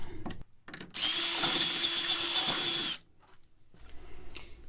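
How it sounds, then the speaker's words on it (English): A power drill enlarges an existing tapped hole in quarter-inch aluminum, a loud steady whine running about two seconds close up, with short bursts of handling noise before and after. "we'll just enlarge this existing hole we tapped"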